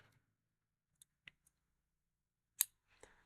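Scissors cut strung marabou fibers at a fly-tying bench in a few quiet, sparse snips and small clicks, close by, with one louder cut near the end in an otherwise silent room.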